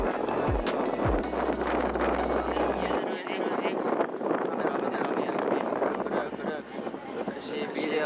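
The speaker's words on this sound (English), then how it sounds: "The wind so strong." Strong wind buffets the microphone outdoors, a loud continuous rumbling roar with low gusty thumps, heard alone without talk.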